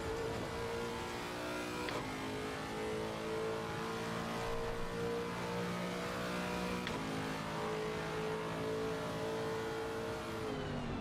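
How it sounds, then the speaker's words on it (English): Race car engine in the Assetto Corsa Competizione video game on the Nordschleife, revving steadily with smooth upshifts and a continuous droning note, heard quietly in the background without talk. "What's loud, Joy? The car I'm driving."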